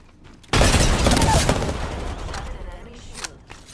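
A frag grenade bursts in Apex Legends with a sudden loud blast, followed by a dense fusillade of gunfire that slowly thins out, with a few sharper shots near the end.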